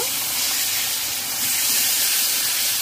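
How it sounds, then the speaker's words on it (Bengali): Water splashed into a hot pan of frying spice paste with cumin powder and Kashmiri chili powder for prawn malai curry sets off a loud, steady hiss and sizzle that holds for the whole stretch, with no talking. "ভালো করে নাড়াচাড়া করে কষিয়ে নেব। পরিমাণ জল দিয়ে দেব"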